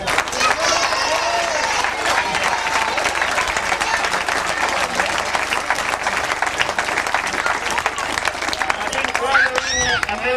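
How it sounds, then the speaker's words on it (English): Spectators at a grasstrack race meeting clap and applaud steadily and loudly for about ten seconds, with crowd voices and chatter mixed in beneath the dense clapping. "Congratulating and clapping people."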